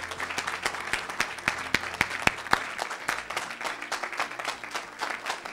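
A church congregation applauds in praise of the Lord. The clapping is lively and rhythmic, with sharp individual claps over a steady crowd patter, and faint voices sit underneath.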